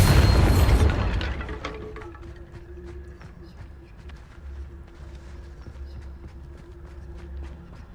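A Bombarda spell goes off in a Harry Potter video game: one loud, close explosive boom in the first second, fading into a low rumble and scattered clattering debris.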